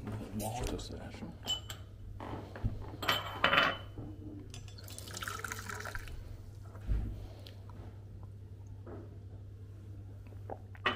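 Water splashes and trickles at a water station in a refurbished hotel, with soft liquid sounds and small drips under a person talking nearby.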